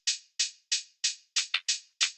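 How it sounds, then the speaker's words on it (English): Two layered closed hi-hats from a synthwave track tick crisply about eight times at a steady pace, short bright hits with one quick doubled stroke, quiet and alone. "So we have 2 closed, which together sound like this."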